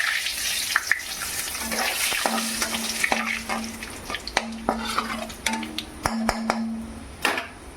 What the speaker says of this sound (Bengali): তারপরে দেবো শুকনো লঙ্কা তারপরে দিয়ে তেজপাতা